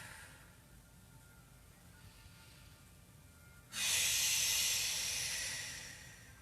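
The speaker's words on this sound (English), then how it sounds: "Breathing from your belly here always" One slow, deep belly breath during a gentle yoga flow: a quiet, faint inhale, then a long, airy exhale swelling suddenly and fading gradually, close and alone.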